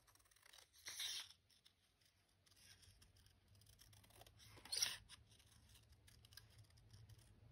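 Scissors snip out a paper craft piece from a green polka-dot printable during a cardmaking challenge, with two short bursts of cutting about four seconds apart, close and fairly quiet over a low steady hum.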